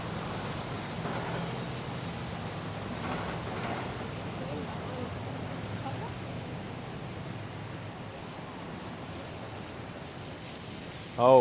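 Rain falling steadily during a New York City rainstorm, a faint, even hiss of drops on pavement with a brief louder knock at the very end.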